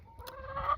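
Chickens on an off-grid smallholding give a brief, close cluck with a rising tonal note, heard alone over faint low background noise.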